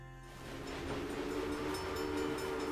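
An early steam-era train in the railroad video game Railway Empire rumbles along with a steady mechanical drone and tonal whistle-like hum, rising slightly in level and then holding, with no talking.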